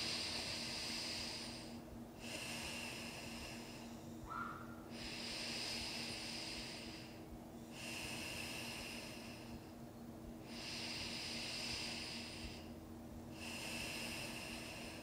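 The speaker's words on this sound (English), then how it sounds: "close this nostril, leave this one open, and take three deep breaths" Slow, deep breaths drawn through one nostril, a breathy hiss rising and falling in three long cycles, close and soft over a faint steady hum.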